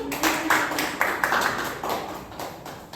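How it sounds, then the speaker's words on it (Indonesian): A classroom of children clap in a brief burst of applause, with sharp claps landing in a loose rhythm and thinning out toward the end. "Tepuk tangan untuk Esa dulu."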